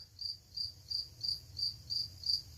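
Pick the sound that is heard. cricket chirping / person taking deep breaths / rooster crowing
cricket chirping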